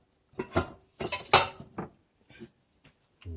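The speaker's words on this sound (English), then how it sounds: "Mix that in thoroughly, just so that it spreads out real well." A few quiet clinks and taps of a utensil against a dish while eggs are mixed into a breakfast casserole, close by and in short irregular bursts.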